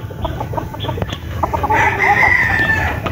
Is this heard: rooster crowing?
yes